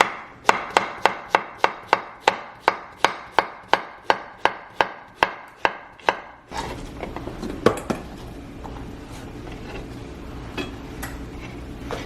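Squash being chopped into bite-sized chunks on a cutting board: about eighteen crisp, evenly spaced knife strikes in a quick steady rhythm, close and loud, followed by quieter kitchen handling noises.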